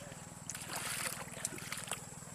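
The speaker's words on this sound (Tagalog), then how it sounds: "Ayan po mga idol ang tubig" Irrigation water trickles and splashes onto vegetable plots of okra, eggplant and string beans, a faint, close running flow under a low steady hum.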